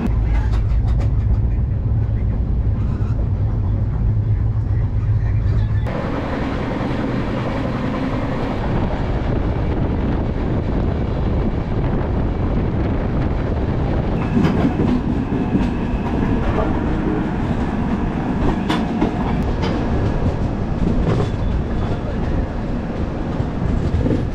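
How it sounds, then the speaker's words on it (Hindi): Gyaneshwari Express, LTT to Shalimar, pulling into platform 3 at a major Chhattisgarh railway station: a steady loud rumble of wagons and rail clatter fills the whole stretch, with a hum dropping away early on and faint distant voices. "ये दोस्तों ज्ञानेश्वरी एक्सप्रेस आ रही है प्लेटफॉर्म नंबर 3 में LTT टू शालीमार"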